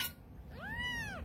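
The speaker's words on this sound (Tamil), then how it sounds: "ஆனா இது திருட்டு பூனை" A kitten gives a single clear, fairly close meow, rising and then falling, with no voices around it.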